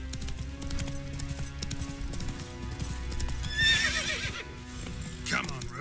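Roach, a horse in The Witcher 3, trots with a steady clip-clop of hooves under game music, a whinny rising near the end and a voice speaking over it.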